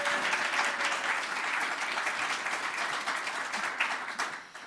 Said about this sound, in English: Can we get another round of applause for our apprentices here